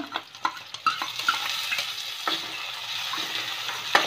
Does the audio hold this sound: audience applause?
no